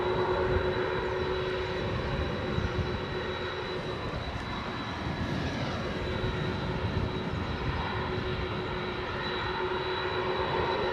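A JetBlue Airbus A321neo comes in to land at Edinburgh after its transatlantic flight from New York JFK, a steady, moderately distant engine drone with a faint whine that holds for the whole stretch.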